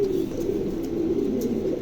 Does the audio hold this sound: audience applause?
no